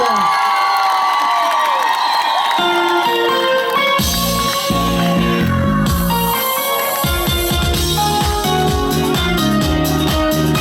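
A concert crowd cheers, whoops and applauds at a Ukrainian stage show, loud and continuous over pounding music that kicks in partway through.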